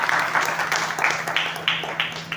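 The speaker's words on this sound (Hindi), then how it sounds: "बस जोरदार तालियां उनके लिए।" Applause from an audience at a youth awakening gathering in Lalitpur, India, a dense, close burst of clapping with rhythmic surges throughout.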